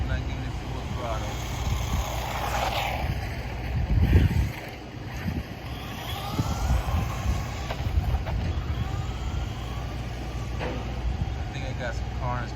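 Gantry Pro mini RC car on a 2S LiPo battery whirring along outdoors, its electric motor whine rising and falling at part throttle under a steady background rush, with a voice talking over it.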